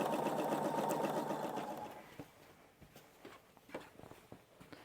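A sewing machine stitches raw-edge appliqué pieces onto an Easter egg table runner. A close, steady motor whir runs for about two seconds, then stops, leaving a few faint scattered clicks.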